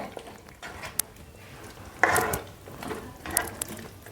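A spoon stirs cornflour slurry and salt through restaurant-style chilli chicken in a pan, making irregular scraping and clattering strokes, with a few sharper clicks and louder rasping bursts between quieter moments.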